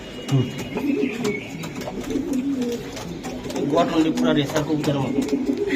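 Giribaz high-flyer pigeons coo and flutter close by, their soft throaty calls running continuously beneath steady human talk.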